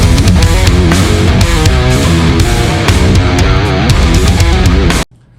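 A heavily distorted electric guitar through the Neural DSP Archetype Gojira plugin chugs out a dense, loud metal riff with driving rhythm, then cuts off abruptly at the end.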